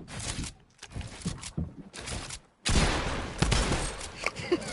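Gunfire aimed at the player in a video game: bursts of rapid shots cut in and out, then a long heavy barrage of continuous fire, loud and close.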